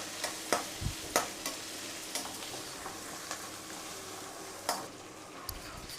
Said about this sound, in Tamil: இது எல்லாத்தையும் நல்லா வதக்கி, சின்ன வெங்காயம் வதங்கட்டும், நல்லா வதக்கி விடுங்க